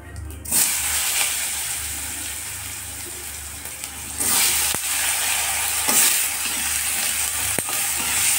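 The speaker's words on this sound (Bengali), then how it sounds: "আলু ভাজা ভাজা হয়ে গেলে মশলা দিয়ে দেবো। আলুও ভাজা ভাজা হয়ে এসেছে।" Potatoes fry in a pan with cumin, stirred now and then, making a continuous close sizzle broken by scraping stir strokes and a few sharp clacks.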